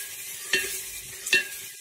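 Onions frying in a pan while being stirred, a steady sizzle broken by two distinct scraping stirs, close and moderately loud with no voices.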